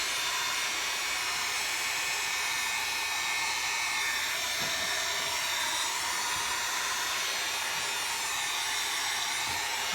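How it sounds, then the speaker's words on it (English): Craft heat tool or hair dryer drying stencil paint on canvas, blowing a loud, constant airy whoosh close by for the whole stretch, steady and unbroken, with no talking. "this dries up pretty quick when you use your craft tool or your hair dryer heating"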